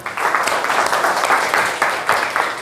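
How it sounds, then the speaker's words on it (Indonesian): A classroom of students claps together in a dense, lively burst of applause that carries on steadily for a few seconds, loud and close. "Kasih aplaus untuk kita semua."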